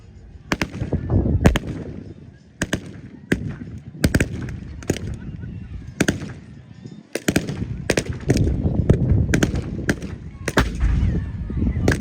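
Repeated loud, sharp gunshots and heavier 6-pounder cannon booms from a 1940s battle reenactment, irregularly spaced, some in quick bursts, with a rumbling background between shots.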